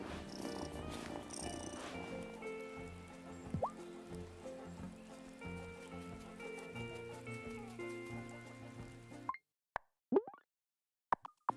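A cat purrs in the Wylde Flowers video game, a steady low rumble layered with soft plopping game sounds and background music, then a few brief isolated clicks near the end after the music cuts out.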